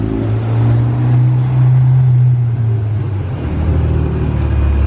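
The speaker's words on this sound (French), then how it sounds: "La GTR là il fait un de ces bruits des retours. Il a bien accéléré là derrière la F8." A Nissan GT-R accelerates hard through Monaco traffic, its engine a loud, sustained low drone that swells, holds steady and then eases into a rumbling idle amid nearby street noise.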